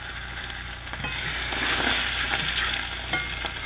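An egg frying in a prepared skillet sizzles steadily while a fork lightly scrapes and nudges it across the pan, giving soft intermittent scratches over the close, continuous crackle.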